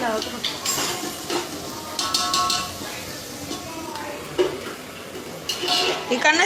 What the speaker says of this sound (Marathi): भाजी बनवत आहे